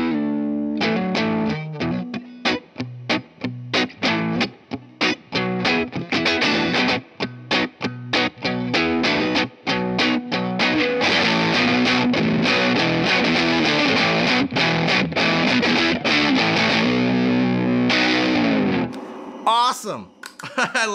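Electric guitar on a warm neck pickup plays through an overdrive pedal adding a touch of treble, a busy, noisy, driven riff of fast picked notes and chords that stays loud and continuous, ending in a brief scrape.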